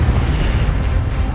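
Expelliarmus spell cast in the game Hogwarts Legacy, heard as a loud, continuous low booming rumble with a burst-like roar and no pauses, close and dominant throughout.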